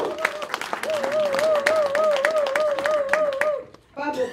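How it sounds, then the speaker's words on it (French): A hall audience applauds for President Félix Tshisekedi with steady, dense clapping under a loud wavering ululation- or horn-like tone. It cuts off sharply near the end, then a brief burst follows. "M. Félix Tshisekedi Antoine Tshilombo, que nous pouvons applaudir, s'il vous plaît, dans toute la salle."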